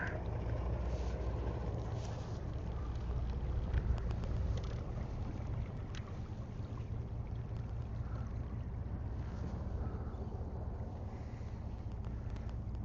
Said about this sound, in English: Sound meaty, the diesels in that thing, don't they?